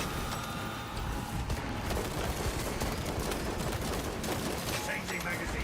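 Automated turrets fire nonstop in a Warhammer 40,000 video game, a dense, continuous rattle of rapid gunshots with booming impacts layered over it, loud and unbroken for several seconds.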